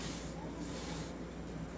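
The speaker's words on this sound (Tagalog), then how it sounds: "Okay, spray natin ng silicone oil." Silicone oil sprays from an aerosol can in short hissing bursts, close and fairly loud, with no talking.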